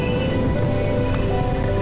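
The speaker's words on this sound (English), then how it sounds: "And now it's raining again." Rain in the video game The Talos Principle, a steady, loud hiss of rainfall over a constant low hum and faint sustained tones, unbroken throughout and with no talking.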